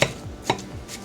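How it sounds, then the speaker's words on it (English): Ground turkey crumbled with a mix-and-chop tool in a pot, heard as two sharp close chopping knocks about half a second apart, no voices. "We'll be using our mix and chop to get the ground turkey"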